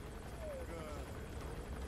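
A faint helicopter in the video game Metal Gear Solid V drones in the distance, a low steady rotor rumble under quiet ambient noise.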